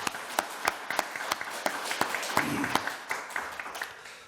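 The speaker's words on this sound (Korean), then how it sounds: "그러한 의미에서 박수로 감사함으로 영광 드리도록 하겠습니다." Church congregation clapping in thanksgiving at a service, a loose scattered applause of distinct claps building to a denser patch and then tapering off.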